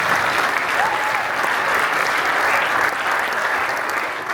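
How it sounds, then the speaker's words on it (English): A big round of applause for Carly from the audience at a sports mental health and addiction talk with hockey greats, dense sustained clapping filling the room, loud and steady throughout. "Let's give Carly a big round of applause"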